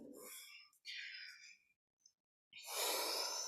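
Breath exhaled during a yoga forward fold in an Ashtanga practice, soft breathy airflow in a few separate close puffs with short silent gaps, ending in a longer, stronger outbreath.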